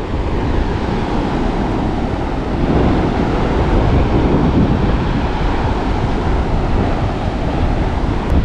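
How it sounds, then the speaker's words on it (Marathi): Sea waves break on a Konkan beach near Dapoli, a loud continuous surf wash with gentle surges and some wind rumble on the microphone, no speech. "समुद्राचा आवाज ऐका थोड्या वेळ."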